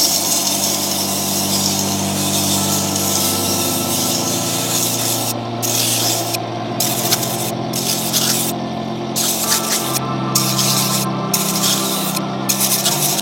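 A Shinko St-180 sharpening stone rubs steadily over a steel blade, a close continuous gritty scraping with a faint hum underneath and rhythmic stroke breaks in the second half; no talking.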